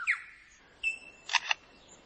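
A forest songbird mimicking a camera shutter: a few crisp, high-pitched clicking bursts with short whistled tones between them, sounding close and clear against a quiet background.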